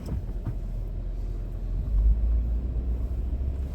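A vehicle engine throttling gently as it drives forward onto ice: a steady low rumble that swells slightly in the middle, continuous and close, with no other distinct sounds.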